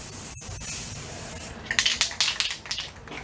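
Short hissing bursts of spray paint go onto John Deere 3020 tractor parts, a quiet rhythmic series of puffs in the second half after a near-silent start with a single click.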